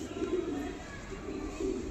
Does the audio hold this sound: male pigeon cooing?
yes